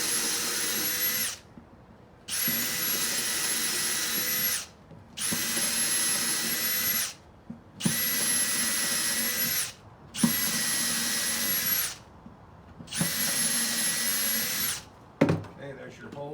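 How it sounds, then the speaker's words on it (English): A power drill bores holes in cabinet wood, six whirring bursts of about two seconds each separated by short pauses, close and loud, ending with a few knocks. "So I'm going to drill these here."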